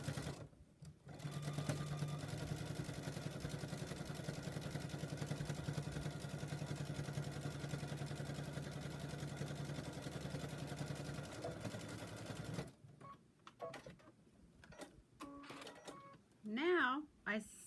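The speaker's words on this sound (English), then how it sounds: "Back stitching at the beginning." A sewing machine back stitching a drawstring bag seam runs in a long, steady, close mechanical whir for about twelve seconds, then stops into quieter handling noises and a brief voice.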